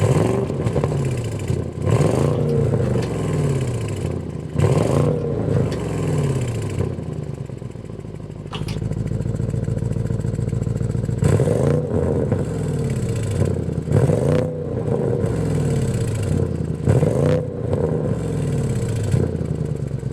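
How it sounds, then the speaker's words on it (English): A 2025 Audi S8's twin-turbo V8 idles and revs repeatedly, its deep exhaust rumbling loudly up and down with short surges throughout. "start it up, so you can hear that exhaust note."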